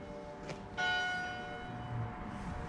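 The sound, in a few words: church bell tower clock striking six o'clock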